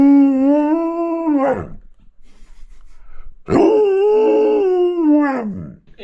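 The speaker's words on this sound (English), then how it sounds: "It's a fact that George Lucas had Alaskan Malamutes, and he got the noise from Chewbacca through that wooing" An Alaskan Malamute howls twice, each long, wavering woo-like call falling off at the end, close and loud with a short quiet gap between them.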